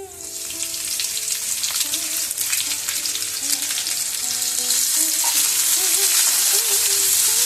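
Thinly sliced onions sizzle and fry steadily in a pan for a tomato egg curry, a dense continuous crackle that grows slightly louder, with occasional stirring and faint tonal hum in the background.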